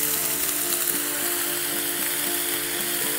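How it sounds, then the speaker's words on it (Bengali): Rice grains frying in ghee for thor pulao, a continuous close hiss with faint rhythmic scraping and clicking of stirring underneath. "এখন ঘি দিয়ে চালটা ভালো করে ভাজতে হবে"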